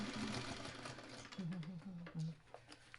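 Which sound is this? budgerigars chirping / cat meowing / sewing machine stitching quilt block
sewing machine stitching quilt block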